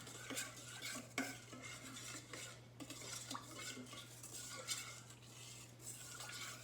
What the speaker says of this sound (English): I'm gonna mix this all up